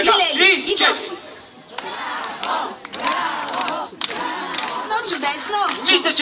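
Women in an audience of mothers, grandmothers and aunts at a school performance shout out together in loud, ragged bursts, with some clapping and a voice speaking between the shouts.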